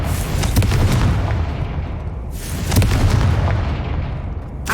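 Two booming blasts from the Confringo fire spell in Hogwarts Legacy, each a sharp crack followed by a rumbling decay, loud and close, the second about two seconds after the first.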